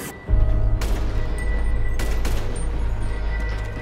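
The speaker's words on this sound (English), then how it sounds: "Who's shooting at me?" Gunshots in the GTA video game: a sharp opening blast followed by a few more loud cracks at irregular intervals over a heavy, rumbling low background, with no talk.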